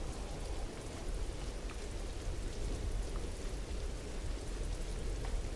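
Steady rain in the horror video game Welcome To Hanwell on PS4, a dense, even hiss of falling drops with a low rumbling undertone, continuous and alone for several seconds.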